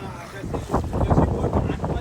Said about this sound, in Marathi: पण आता वारा लय बेकार आहे.